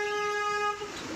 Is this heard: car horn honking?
yes